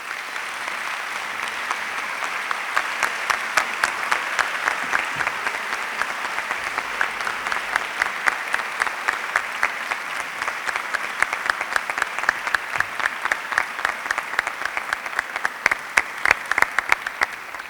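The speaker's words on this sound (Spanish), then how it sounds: "Un aplauso para él, por favor." Graduation ceremony audience at a Spanish engineering school applauds steadily, a dense wash of many hands clapping that swells slightly toward the end, with no talk over it.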